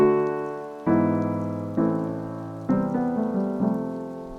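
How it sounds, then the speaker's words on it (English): Soft rain-textured piano sample, chords ringing out and decaying slowly, each struck about once a second, filtered very dark with a muffled tone and faint crackly texture. "Now there's the rain piano."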